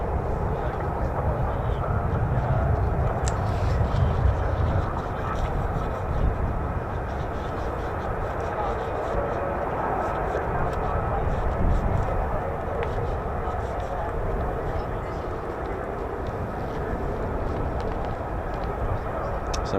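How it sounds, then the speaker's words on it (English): F-35 fighter jets taxiing at RAF Lakenheath: a steady, broadband jet rumble held at moderate loudness for the whole stretch, without clear peaks or pauses. "So we've got F-35s taxiing just to our right, actually."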